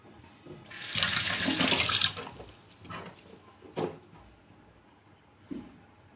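Water drains from homemade paneer curds tied in a cloth, a loud splashing pour of about a second, then quieter trickles and a couple of small splashes nearby.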